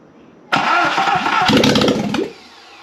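A Subaru EJ25 engine on a test bench cranks and catches, roaring loudly for under two seconds with a rough, uneven rhythm before cutting out abruptly, leaving quiet.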